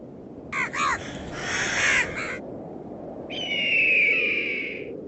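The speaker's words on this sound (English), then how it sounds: "It is the golden eagle" Golden eagle calling over the rocky, windswept slopes of the Alps: a short burst of chattering notes, a pause, then a longer, drawn-out, thin cry, both fairly clear above a steady low rush of wind.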